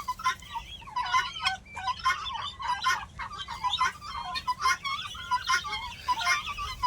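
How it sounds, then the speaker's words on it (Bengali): Many large turkeys gobble in a lively chorus. Repeated rapid warbling calls overlap at close range above a low hum of farmyard background. "কত বড় বড় এই টার্কি পাখি"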